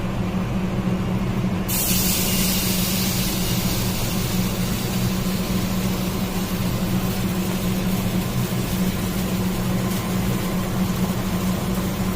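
Paneer tandoori pieces skewered on toothpicks sizzling on a hot tawa, a loud, dense, continuous hiss that holds steady throughout with no pauses.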